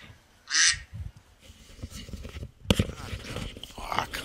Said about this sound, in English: Eddie, let that fucking duck outside